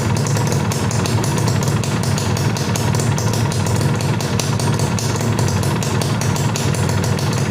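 A Yamaha FIZR motorcycle engine idling steadily and close, a continuous even putter with rapid regular pulses and no talk over it.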